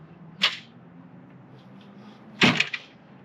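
An RV screen door fitted with a new plexiglass panel and an added inside handle is opened and then shut, a light latch click followed two seconds later by a louder rattling clack, close by with a faint hum beneath.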